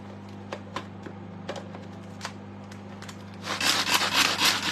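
Cord on a Tupperware pasta maker pulled in a kitchen, giving a series of brief scraping rubs that builds into a louder, sustained rasping pull near the end, close and alone.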